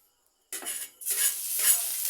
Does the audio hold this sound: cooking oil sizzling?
yes